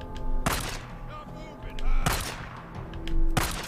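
Pistol gunshots in the video game Days Gone: three sharp broadband cracks spaced about a second and a half apart, loud against a low ambient game backdrop.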